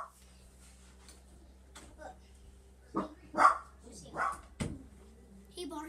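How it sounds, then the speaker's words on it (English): A dog barks several times in a home, short bursts at mid distance spread across the clip, with a steady low hum underneath and no clear talk. "He barks at everything."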